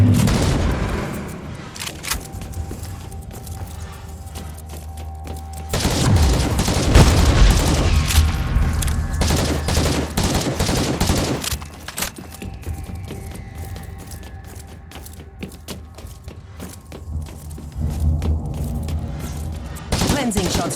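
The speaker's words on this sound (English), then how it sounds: "Cleansing shots fired." Gunfire from the video game Warhammer 40k Inquisitor - Martyr, heavy booming bursts of shots arriving in several loud waves between calmer stretches of droning game ambience.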